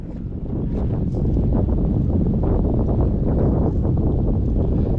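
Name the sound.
wind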